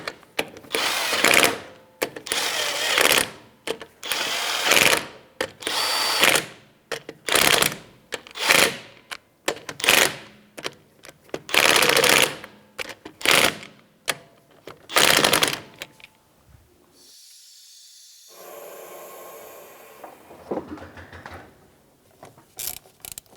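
A wrench with a 19mm socket tightens the wheel lug nuts on a 2007–2017 Jeep Compass during a rear brake job. About a dozen bursts of rapid ratcheting clicks sound close by, then fade to quieter handling noise.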